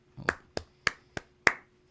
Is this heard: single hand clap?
yes